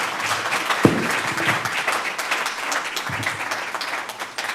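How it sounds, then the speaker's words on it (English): Sustained applause from a sizable crowd at a youth talk with Professor Muhammad Yunus, steady and moderately loud for several seconds before thinning slightly at the end. "Let's give a big applause"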